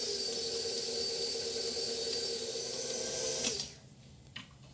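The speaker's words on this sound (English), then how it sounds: "And I want to mix this just until it's combined." A stand mixer with a paddle attachment mixes chocolate espresso cookie dough with a steady motor whir. The whir stops near the end and a faint clatter follows.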